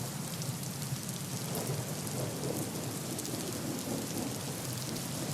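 Steady, dense rain pours down continuously, a broad hissing roar with no pauses and no voices.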